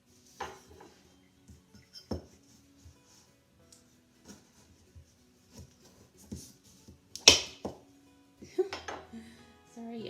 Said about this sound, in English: every time I tap the counter, this bowl resonates